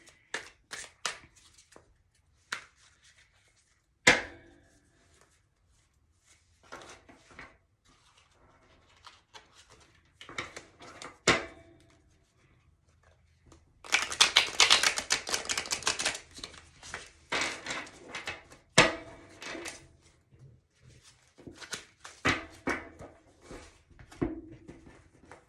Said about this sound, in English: I'll shuffle one last time.